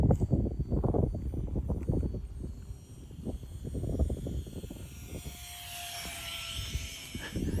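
A tiny RC jet whines and roars as it flies past in strong wind. The sound rises and falls with a pass, then drops into a long, fading whine, with wind rumble and no talk.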